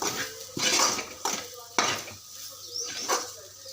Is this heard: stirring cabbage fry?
yes